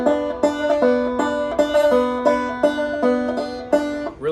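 A slow finger roll picked on a stringed instrument, with the top string struck repeatedly: clear, ringing plucked notes in an even, steady rhythm, close and loud with no talk.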